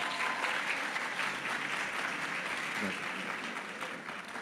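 An audience applauds during a Richard Gere interview, a sustained, fairly faint wash of clapping that runs steadily throughout.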